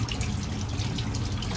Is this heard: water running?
yes